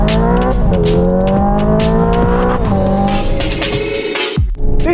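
A Hyundai Ioniq 5 N electric car plays synthetic petrol-style engine revs, a loud, close tone that climbs steadily and then drops with a simulated gear shift before climbing again, with tire noise underneath.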